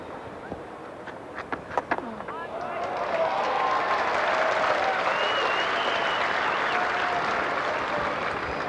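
Cricket crowd at a Sheffield Shield grand final in 1988 breaks into sustained applause and cheering, swelling after a few scattered claps into a broad, steady roar of clapping from a large stadium audience.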